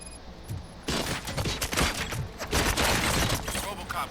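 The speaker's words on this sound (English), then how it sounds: "Gunshots? What's going on?" Gunfire in RoboCop: Rogue City, a dense fusillade of rapid shots breaking out after a quiet moment and continuing in loud bursts for several seconds.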